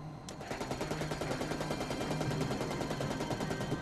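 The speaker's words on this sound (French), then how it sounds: "J'ai tiré une rafale de 64 munitions de calibre 30 mm." A 30 mm cannon fires one long rapid burst, a dense rattling string of shots that starts abruptly and holds loud and steady to the end.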